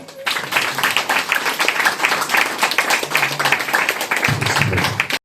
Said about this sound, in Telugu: అందరూ క్లాప్స్ కొడతారా